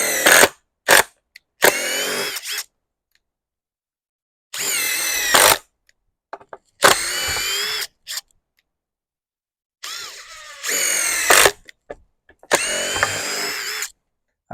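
Makita TD173 cordless impact driver sinking screws into wood, several loud bursts of rapid hammering separated by silent pauses, close up with no talk.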